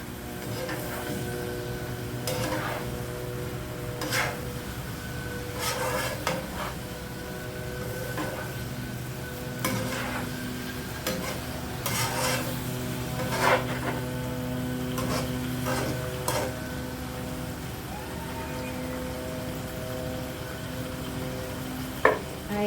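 Boiled eggs stirred into tofu frying in a pan, a continuous sizzle under repeated scraping and clinking of a spatula against the pan, with occasional louder knocks.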